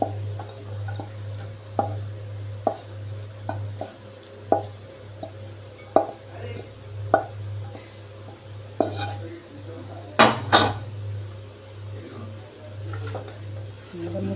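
Banana flower curry being served into a bowl, with a series of light clinks and taps of a utensil against dishes spaced through the clip, a couple of louder scrapes near the end, over a steady low hum.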